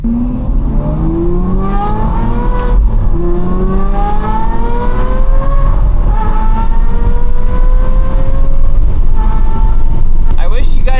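Aston Martin V12 Vantage with an aftermarket exhaust accelerating through the gears, a loud continuous engine note rising in pitch several times with shifts between, recorded from inside the car, with someone talking over it.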